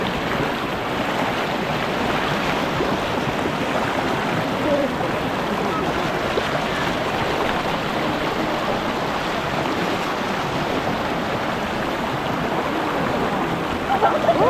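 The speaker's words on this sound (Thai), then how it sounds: "น้ำนี่เกือบครึ่งเข่าเลยนะคะน้ำแรงด้วยนะคะ" Strong rushing water pours steadily throughout at a waterfall stream, a dense broadband roar close to the listener with no pauses or voices.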